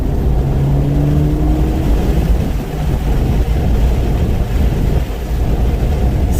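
A car accelerating hard in a pull, its loud engine roar filling the whole stretch with a gear change partway through, close and continuous with no talking.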